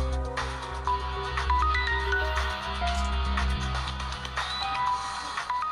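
A mobile phone rings for an incoming call, its melodic ringtone looping loudly and steadily with no voices over it.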